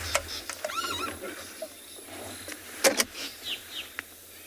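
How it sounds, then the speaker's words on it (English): Drongos and other daytime birds call at sunset in the African bush, a scatter of short chirps and whistled notes near and far, with a couple of louder sharp calls standing out over a quiet background. "Mostly drongos. They're often the last of the daytime birds to call."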